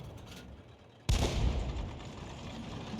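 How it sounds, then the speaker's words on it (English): A single heavy tank cannon shot in War Thunder during an exchange with an SU-85, a sudden loud boom after a quiet stretch and a long rumbling tail. "he's starting to exchange fire with the SU-85"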